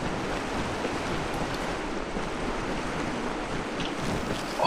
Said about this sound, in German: Wie schön das Geräusch vom Wasserfall kommt, wenn man hier reinläuft.